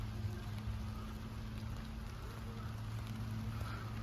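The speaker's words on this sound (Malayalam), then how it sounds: "മഴ ചെറുതായിട്ട് പെയ്യുന്നുണ്ട്" Light, steady rain patters on a surface throughout, a soft continuous wash with a low hum underneath and no voices.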